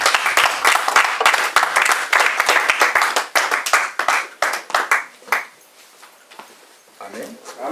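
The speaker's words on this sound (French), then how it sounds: "On acclame pour Jésus-Christ." A church congregation claps and applauds in praise of Jesus Christ, with loud, dense, rapid hand claps for about five seconds that then thin out and fade to scattered claps, with voices in the background.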